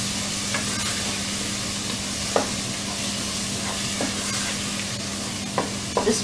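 Spices cooking in a pan for a methi mutter malai dish give a steady, close frying hiss, with several sharp clicks of stirring scattered throughout.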